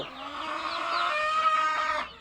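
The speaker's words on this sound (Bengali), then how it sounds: "এগুলো মূলত ডিম পাড়া মুরগি।" Laying hens, about 48 to 50 days old, of the Egyptian Fayoumi breed, cluck and squawk close by, a continuous overlapping chorus of clucking calls from several birds.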